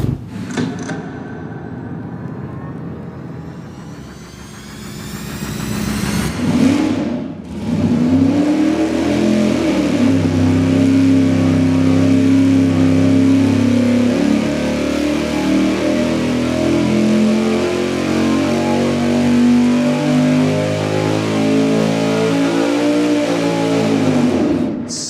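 A big-inch big block engine on a dyno climbs from a rising rumble into a long, loud, sustained wide-open pull, its roar holding steady for many seconds before dropping off at the end.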